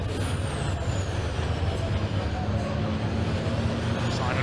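Racing trucks with heavy roll caging roaring around the Brands Hatch circuit in a British Truck Racing Championship race, a loud, steady low engine drone throughout with a commentator talking over it.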